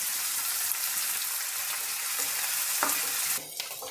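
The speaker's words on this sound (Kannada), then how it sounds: "ಈಗ 3/4 ಭಾಗದಷ್ಟು ಈರುಳ್ಳಿ ಫ್ರೈ ಆಗಿದೆ" Finely chopped onions, lentils and curry leaves frying in oil make a steady, close hiss with faint stirring scrapes and a brief clink near the end, no voices.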